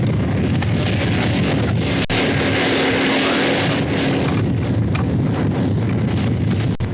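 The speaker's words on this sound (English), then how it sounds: "a stiff wind blowing down the slopes to the valley" Loud, constant wind roars and buffets the microphone, a dense rushing blast with occasional thumps and no voices.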